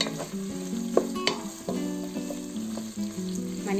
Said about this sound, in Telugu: మనకి ఉల్లిపాయలు కొద్దిగా వేగాలి.